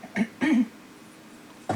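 Three short, rough coughs from someone with a lingering flu, close and fairly loud, the first two in quick succession and the third after a pause of about a second.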